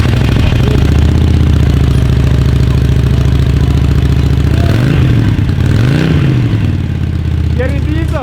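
Mazda Miata engine breathing through a Magnaflow exhaust, a loud steady low idle with a couple of short revs rising and falling near the end, close by and alone.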